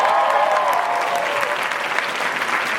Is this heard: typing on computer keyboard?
no